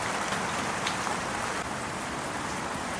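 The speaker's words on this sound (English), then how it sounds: "it's raining this morning" Steady morning rain pattering on surfaces in a Mexican village at the end of May, a dense, even hiss of drops that continues without break.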